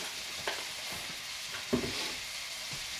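Garlic and rosemary get stirred in a pot, with a soft steady sizzle and a couple of scraping spoon strokes, quiet and without talk.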